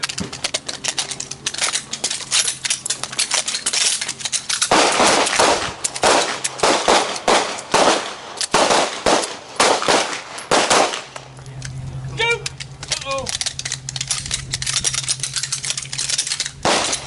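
Handguns fire on command at a shooting class, a dense volley of sharp, loud cracks from several shooters overlapping in rapid irregular bursts, followed by fewer scattered shots, tinkling brass and a low steady hum.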